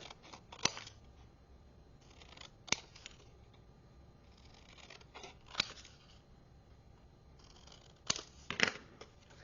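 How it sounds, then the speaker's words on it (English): Scissors cutting through paper card stock, quiet crisp snips spaced a few seconds apart with soft rustling of the card between cuts, close and alone. "Now I'm going to go ahead and cut."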